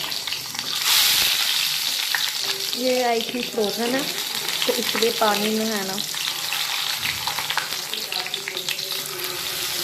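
Frozen shami tikki sizzle steadily in hot oil, a continuous crackling hiss close by while someone talks over it.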